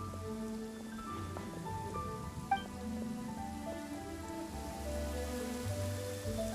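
Steady rain falls in the video game Genshin Impact, a soft continuous patter with occasional distinct drops, heard alone against a sustained musical backdrop.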